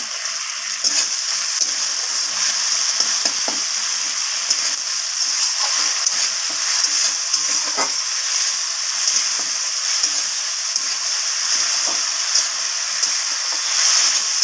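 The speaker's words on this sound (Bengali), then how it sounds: "তো আমার সব কিছু ভালোভাবে ভাজা ভাজা হয়ে গেছে" Spices and chopped coriander leaves fry for a vegetarian cabbage curry, giving a steady, loud, close sizzle with no break and faint stirring scrapes.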